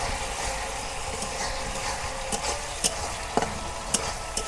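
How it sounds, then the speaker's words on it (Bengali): Dried fish (shutki) stir-fries in a pan for a village-style recipe, a steady frying sizzle punctuated by scraping stirs and occasional sharp clinks of the utensil against the pan. "দেখি শুটকি মাছ কষানো হলো না নাই"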